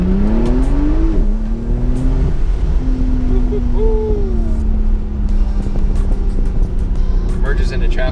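A 2018 Porsche 991 Targa 4 GTS engine drones under load while driving, its pitch climbing and dropping through crisp gear shifts, with people talking inside the car over the engine.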